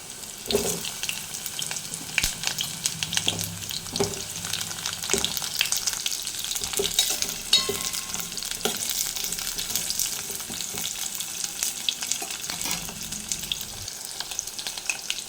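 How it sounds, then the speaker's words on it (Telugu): Drumstick pieces sizzle steadily in hot oil, a loud continuous crackle broken by occasional scrapes and knocks of stirring. "నూనెలో వేయిస్తున్నాను ముక్కలు"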